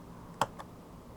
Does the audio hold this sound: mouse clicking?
yes